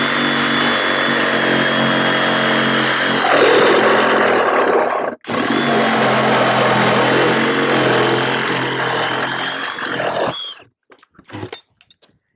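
Hydraulic rescue cutter biting through a car's subframe and A-pillar during extrication training, a loud sustained grinding, crunching mechanical roar that cuts out abruptly midway, resumes, then breaks into sparse clanks and fades.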